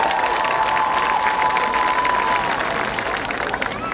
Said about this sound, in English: Another round of applause for Miss Kia Bremer.